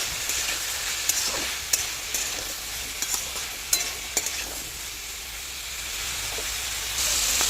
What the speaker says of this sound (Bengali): হলুদ আর নুনটা দেওয়ার পরে একটুখানি নেড়ে দেবো।